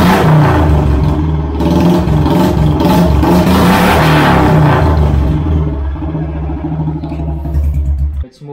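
A motorcycle engine in a shop owner's collection revs loudly and close in a sustained, roaring burst that eases toward the end, then cuts off abruptly.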